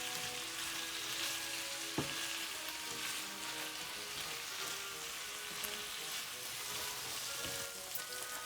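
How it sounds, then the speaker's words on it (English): Meat sauce for lasagna sizzles steadily in a pan while being stirred, a continuous frying hiss with one sharp utensil knock near the start and faint scraping throughout, no voices. "So we're going to, similar to what we did with the onions, mix that all up together"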